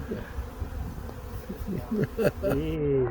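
A large honey bee colony buzzing nearby, a steady droning hum with rising and falling pitch as individual bees pass close, and faint voices mixed in underneath.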